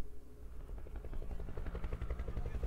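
Rhythmic low thumping of military helicopter rotor blades in Minecraft, steady and moderately distant, with a droning engine hum beneath.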